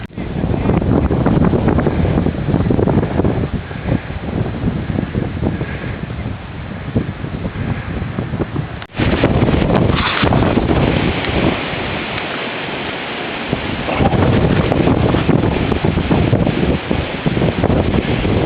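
Strong, continuous wind buffeting and roaring across the microphone outdoors during a walk, loud and gusty throughout with a brief drop in the middle, after rain has stopped.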